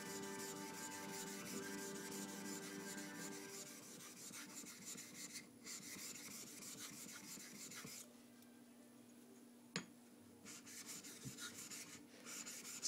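Blue steel kanna blade rubbed back and forth on a 1000 grit King sharpening stone, a steady, faint, wet rasping scrape continuing throughout with one sharp tap near the end.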